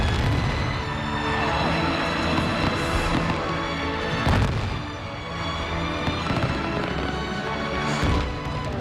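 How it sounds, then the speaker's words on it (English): A fireworks display at the 2001 Singapore National Day Parade in a stadium: dense booms and crackling bursts roll continuously over loud orchestral music and crowd noise, with heavier thumps standing out every few seconds. "The fireworks display is accompanied by the music of Singapore Symphony Orchestra"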